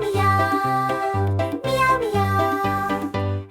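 A voice sings a series of cat-like meows in a regular rhythm over upbeat instrumental music, imitating a cat, in a Turkish children's song.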